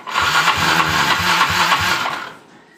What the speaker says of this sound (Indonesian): terus kita starter atau kita selah